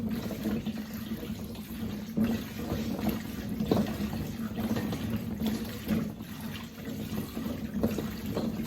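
Freshly harvested potatoes washed by hand in a tub of water, with constant churning and sloshing as they are swirled round and round, a steady liquid wash with small splashes throughout.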